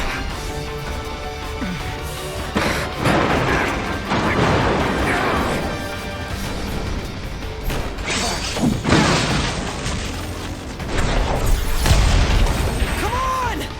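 Loud heavy weapon fire with crashes and booming impacts in a Final Fantasy XV train chase battle. Dense, continuous clatter and bursts, with brief voices mixed in.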